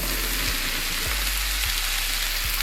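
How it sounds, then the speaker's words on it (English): Diced baby bella mushrooms fry in oil and butter with a steady, close sizzle and soft crackle, broken by a few low bumps from the pan. "Now I got a large container of baby bella mushrooms that I diced up medium. We're gonna drop that in with that oil and butter."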